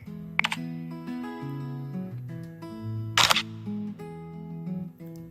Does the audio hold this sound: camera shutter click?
yes